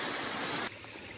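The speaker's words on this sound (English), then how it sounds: "I love these waterfalls" A mountain waterfall on Eliza Brook along the Appalachian Trail, a dense steady rush of falling water that drops abruptly quieter partway through.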